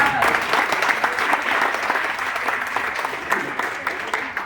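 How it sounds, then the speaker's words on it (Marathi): An audience claps in a dense, sustained burst of applause that holds steady throughout, close and fairly loud, with no speech over it. "जोरदार टाळ्या व्हायला पाहिजे."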